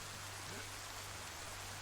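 Rain falling in a role-play video game, a soft, even wash of faint pattering noise with no distinct drops and no talking.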